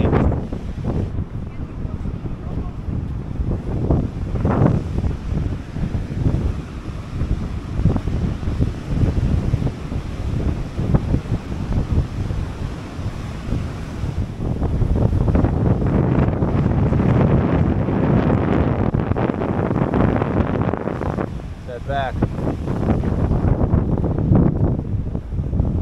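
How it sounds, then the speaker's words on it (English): Strong wind buffets the microphone on a hilltop trail above Kapaa, Kauai, a steady roaring rumble that swells louder around the middle and continues to the end, with faint voices mixed in. "It is windy."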